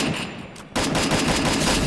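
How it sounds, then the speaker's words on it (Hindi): Rapid, loud gunfire from the Free Fire MAX battle game bursts in after a short quieter stretch, a dense continuous volley of shots that fills the rest of the moment. "और इधर भी गोलियाँ चल रही हैं गाइस"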